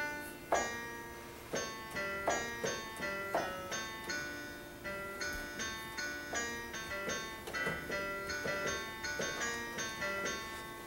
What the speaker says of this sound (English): In the case of this fugue we're going to hear, it sounds like this.